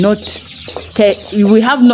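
Two-year-old layer chickens cluck close by in several short, uneven bursts, loud and clear.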